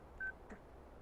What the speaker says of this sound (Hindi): शिवा को फोन करता हूँ।